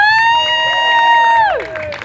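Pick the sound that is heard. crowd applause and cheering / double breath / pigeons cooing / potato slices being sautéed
crowd applause and cheering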